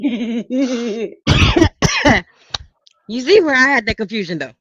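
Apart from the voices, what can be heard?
sneeze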